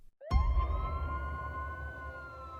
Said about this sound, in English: The sirens wailed,